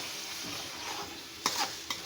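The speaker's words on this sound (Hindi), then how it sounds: "अब इसको अच्छी तरह भूनेंगे।" Yogurt masala for white korma sizzles steadily in a pan, with a couple of sharp clinks of a utensil stirring against the metal near the end.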